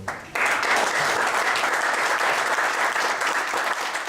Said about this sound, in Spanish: Pues denme un aplauso fuerte, hermano.